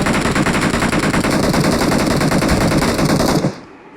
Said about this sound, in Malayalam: അവര് എന്നെ വെടിവെച്ചിട്ട്